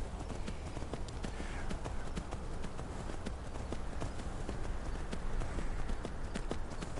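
Horse hooves gallop in the video game Skyrim, a rapid, continuous clatter of hoofbeats that stays loud and close throughout with no voices over it.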